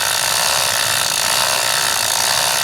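A Park Tool chain cleaner turns backwards on a bicycle chain as its bristles work through the links, giving a steady close-up ratcheting, clicking whir that runs continuously with no pauses.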